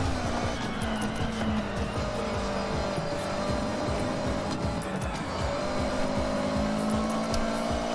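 A car drifting in the racing game Forza Horizon, a loud continuous engine drone with rising and falling revs and tire squeal throughout, dense and unbroken.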